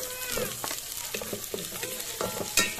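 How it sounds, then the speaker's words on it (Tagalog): Onions frying with ginger in a pan for sinabawang monggo, a soft steady sizzle with intermittent stirring scrapes, fairly close and quiet. "Ginger, then onions"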